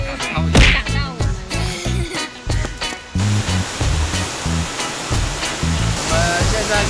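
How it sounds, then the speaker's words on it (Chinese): The waterfall at Manyueyuan National Forest Recreation Area in Sanshia, New Taipei, sends up a loud, steady roar of rushing water, with handling knocks and scuffs over it early on. "我们现在在那个马月圆瀑布的上面"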